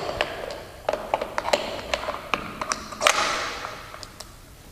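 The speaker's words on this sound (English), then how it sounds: "Turn the lock pin 180 degrees and pull out to install the jaws." Pressing jaws fitted to an AGP metal pipe press tool as its lock pin is turned, a series of sharp metallic taps and clicks at an uneven pace, close, over a low background hiss.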